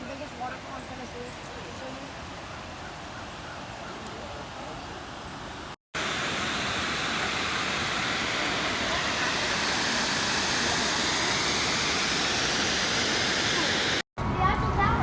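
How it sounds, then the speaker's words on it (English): Roar of the largest waterfall in Tennessee, in the Appalachian Mountains: a steady, loud, broadband rush of falling water that fills the whole stretch, with brief cuts where the sound drops out. "This is like the biggest waterfall in Tennessee."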